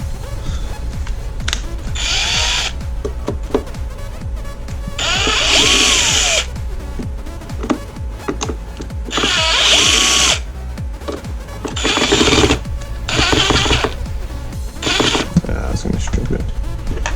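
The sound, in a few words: power drill removing screws from Mazda Protege glove box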